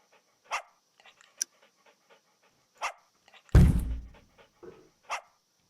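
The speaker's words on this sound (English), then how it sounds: "I'm trying to pet the dog." A dog pants and sniffs close by in a few short bursts. A louder thump or rustle sounds midway through, and otherwise there are quiet gaps between breaths.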